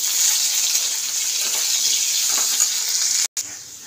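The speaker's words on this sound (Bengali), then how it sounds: "আলুটা ভাজা হোক।" Potatoes frying in hot oil with turmeric and salt, a steady bright sizzle that hisses on evenly and close up, with a brief cut near the end.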